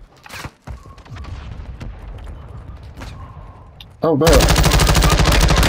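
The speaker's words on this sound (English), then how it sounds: "Who's shooting him?" Gunfire in the Warzone 2 battle royale video game: scattered sharp shots early on, then a dense, loud burst of rapid fire at the end, with brief speech.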